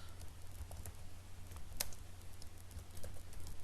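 Light, quick key taps on a computer keyboard come in an uneven run over a low steady hum, close and fairly quiet, with one sharper click partway through and no talk.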